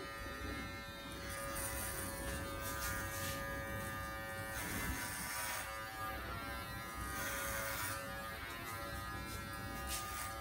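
Electric clippers shave a head during a haircut with a steady close buzzing drone that runs throughout, its tone shifting a little as the blades move over the scalp.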